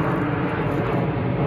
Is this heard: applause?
no